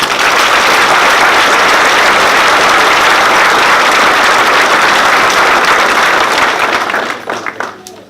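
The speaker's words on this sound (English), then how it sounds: "they deserve a round of applause" An audience at a 2019 campaign announcement speech breaks into loud, sustained applause that fills the room, then thins out and fades near the end.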